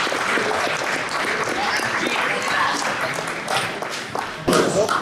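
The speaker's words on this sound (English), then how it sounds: "round of applause for varsity boys soccer." Crowd applause for the varsity boys soccer team at a school sports awards banquet, a steady wash of many hands clapping that swells near the end, with voices talking underneath.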